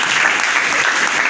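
A Pentecostal church congregation in Mogi Guaçu, Brazil, claps together during worship, loud and close, a thick sustained roar of many hands with a faint murmur of voices beneath.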